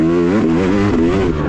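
Yamaha YZ250 two-stroke dirt bike engine on a deep-rutted Tennessee motocross track at Greenbrier MX, loud and close with a harsh, wavering rev that rises and falls continuously with no talk.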